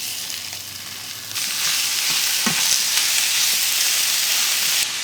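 Ground beef sizzles and fries with onions in a pan, a steady broadband hiss that swells louder partway through, with occasional stirring scrapes and no voices.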